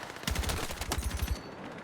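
Rapid bursts of AK-205 automatic rifle fire in Battlefield 6, two clusters of sharp cracking shots in quick rhythm, loud and close, with a brief quieter gap between and the tail fading out.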